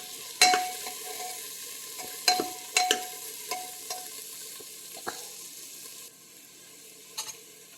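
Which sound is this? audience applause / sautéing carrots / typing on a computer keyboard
sautéing carrots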